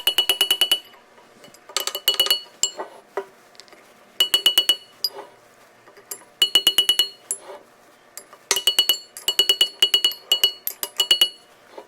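A cold chisel tapping on a metal muffler part from a 1914 Chevrolet, ringing metallic strikes in quick clusters of several taps separated by short pauses, bright and close, with no talking.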